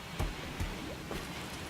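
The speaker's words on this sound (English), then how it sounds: "Oh, now the rain comes." Steady rain hiss in the RimWorld video game, a soft continuous wash with a few brief low thumps, fairly quiet throughout.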